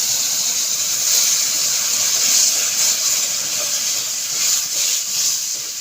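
Water goes into a hot pan while sweet suji cooks, giving a steady, bright hissing sizzle that swells and eases over several seconds without talk.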